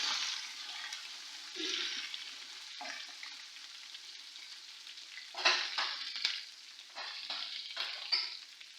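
Ginger dropped into hot oil in a tempering for mung and masoor dal, giving a soft, steady sizzle with a few louder crackling bursts and stirring scrapes, no talking.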